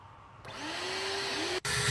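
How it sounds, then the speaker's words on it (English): A large heavy-duty vacuum cleaner set up for cleaning a dirty swimming pool switches on and drones steadily with a rising whine, then cuts out briefly and roars back on, loud and close. "I've got the big boy hoover as well, so this is going to make it a bit easier for me"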